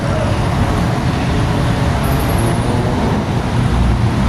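Dense rush-hour traffic at the EDSA and Aurora corner in Cubao, a loud, steady roar of cars, buses and trucks continuing without a break.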